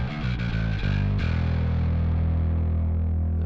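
A bass guitar runs through a Darkglass Adam distortion pedal: a few quick gritty notes, then one sustained fuzzy low note ringing out steadily, close and loud, no talking.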